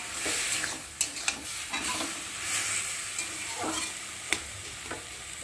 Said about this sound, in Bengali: আর এখন আমি একটু ভালো করে নেড়ে চেড়ে আর নাড়িয়ে নেব